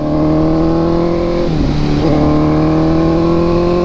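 A Honda CB650R motorcycle engine revving loudly and steadily close by, pitch dipping briefly then climbing back up, with no talking.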